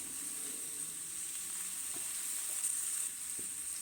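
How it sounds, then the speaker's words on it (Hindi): Chicken drumsticks sizzle and fry in vegetable oil in a large pan over a high flame, a steady close hiss with a few faint clinks of stirring, and no voices. "फ्लेम मेरी हाई रहेगी और जो ड्रम मिट्स थे चिकन के पीसेस वो मैं सब एक एक करके इसमें डाल दूँगी"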